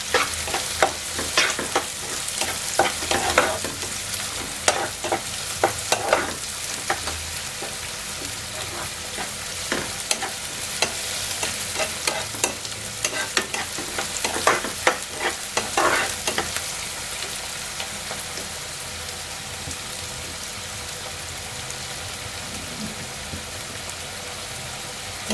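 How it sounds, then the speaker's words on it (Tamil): Chopped onions sautéing in a pan for mutton ghee roast, stirred until golden. A loud, continuous close sizzle carries repeated stirring scrapes and clatters through the first two thirds, then settles into steadier frying. "நல்லா வதக்கிக்கோங்க."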